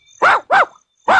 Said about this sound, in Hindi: जोर से भौंको।